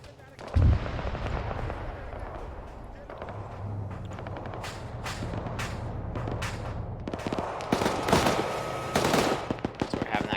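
A vehicle's coaxial machine gun fires in Arma 3, with rapid bursts of automatic fire and heavier thumps in a battle, close and loud, and a voice talking briefly over it.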